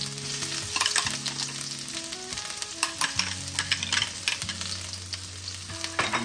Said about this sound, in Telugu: జింజర్ గార్లిక్ వేసినాక మంచిగా కలిపి మంచిగా మిక్స్ చేయాలి